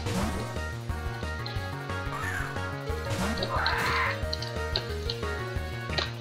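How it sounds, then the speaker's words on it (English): Squawking video game creature cry as a Pokemon is sent into battle in Pokemon Uranium, harsh quacking calls over looping chiptune-style battle music, moderately loud. "He squaws every time he's sent in battle."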